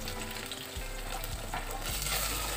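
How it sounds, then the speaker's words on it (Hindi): Ground coriander, red chili and turmeric powders sizzling in hot oil in a pan while masala is fried for a mutton dish, a steady close crackle with a few soft stirring scrapes. "अब हमें मसाले को अच्छे से भून लेना"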